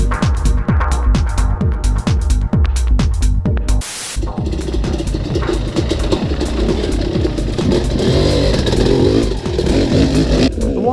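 A Yamaha YZ250 two-stroke dirt bike, converted from motocross to enduro trim, is ridden on trail, its engine revving and pulsing loudly and close with a sharp burst near the four-second mark, and no talk.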